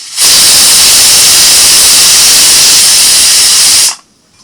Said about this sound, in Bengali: দুটো সিটি পড়েছে প্রেসার কুকারে